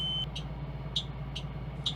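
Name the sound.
school bus emergency window buzzer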